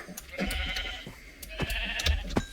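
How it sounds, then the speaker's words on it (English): Repeated sheep bleats from Minecraft, several short calls spread across a few seconds at moderate loudness over a steady background, with no talking. "Oh, I have found myself a sheep, but it's very precariously close to the edge of the cliff."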